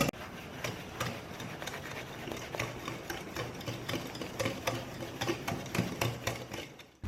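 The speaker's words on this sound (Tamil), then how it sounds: "எலக்ட்ரிக் விஸ்க் யூஸ் பண்றதுனாலும் பண்ணிக்கலாம்." An electric whisk beating eggs until frothy for a tricolor cake batter, a steady buzzing motor with rapid rhythmic ticking and tapping against the bowl, loud and close, with no voices.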